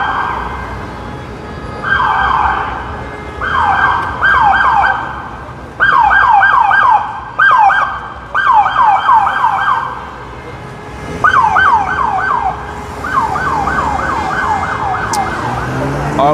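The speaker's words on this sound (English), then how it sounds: "we have an unmarked police car there as well as a marked police car" Police car sirens wail in repeated rising-and-falling bursts along 34th Street at Herald Square in Manhattan on a Saturday night, loud and fairly close over steady city traffic rumble.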